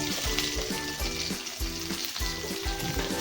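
Chopped tomatoes sizzle hard as they hit browned onions frying in a pan for a horse gram curry, a dense, continuous, close crackle with rhythmic stirring scrapes and no talking.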